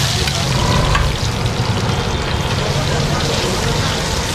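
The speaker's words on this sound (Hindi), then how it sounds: "आप फिर ये डीप करके फ्राई कर रहे हो।" Vada pav deep frying in hot oil at a busy Nashik street stall, a steady loud sizzle and bubbling that runs throughout, with a voice talking over it.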